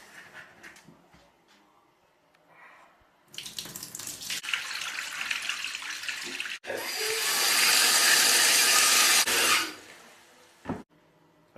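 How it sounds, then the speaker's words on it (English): Water is poured out of a jar of curing olives and then a tap runs loudly to refill it, a quieter splashing followed by several seconds of strong rushing flow that stops abruptly. "Now I'm just going to empty it out and put new water in them again."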